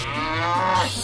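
A cow moos once in a farmyard, a single drawn-out low call lasting about a second, near and clear over faint background hum.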